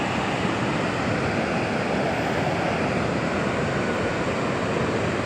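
Ocean waves on a Peruvian beach, spray reaching up the shore, heard as a continuous broad roaring wash of surf and water, even and fairly loud throughout with no speech.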